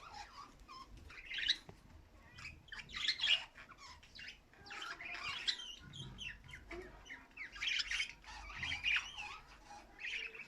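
Lovebirds squawk and chirp in repeated shrill bursts, close and busy, over a low rumble of background noise with no talk.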